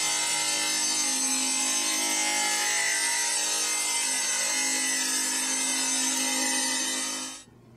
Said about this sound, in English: Using a table saw, rip the riser to the proper height.